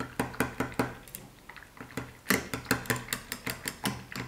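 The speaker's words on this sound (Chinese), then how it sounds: "我们在280克的温水里加入5克的酵母，充分的搅拌均匀，让酵母融化" A spoon clinks against a bowl while stirring yeast into warm water, giving quick, bright taps in an uneven rhythm, with a brief pause midway before a faster run of knocks.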